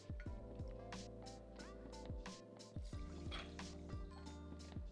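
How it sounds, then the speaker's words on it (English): Crown Royal whisky is poured into a measure for a cocktail, a soft close liquid trickle with gurgling tones running steadily under repeated low, faint thumps. "And there we go with 2 ounces or 60 mils of Crown Royal."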